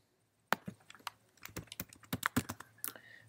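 Someone types a teacher username on a computer keyboard: a quick, uneven run of sharp, close key clicks after a half second of silence, with no voices.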